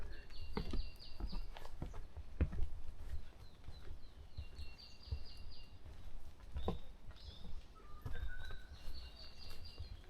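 Faint, high chirps and short trilling calls from birds come and go in a quiet forest on Bongseosan in the early morning, with soft footstep crunches and rustles close by.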